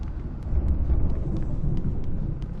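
A thunderstorm rumbles in Alan Wake Remastered, low continuous thunder rolling and swelling with faint crackles above, with no voices over it.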